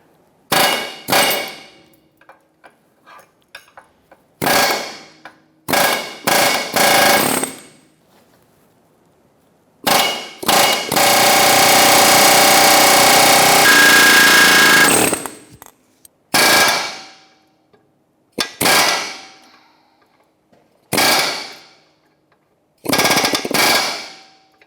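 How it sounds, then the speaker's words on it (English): An air chisel hammers rivets off a ball joint on a 2013-2022 Buick Encore, firing in loud, close bursts of rapid metallic clatter. Most bursts are short, with one sustained run of about five seconds. "now we're going to take these rivets off with our air chisel"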